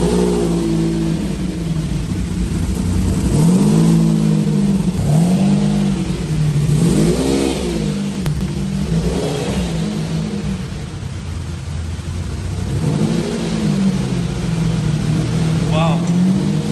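A Lamborghini Diablo V12 barks through its quad exhaust, revving repeatedly in rising and falling swells at close range, loud and throaty throughout, with people talking over it.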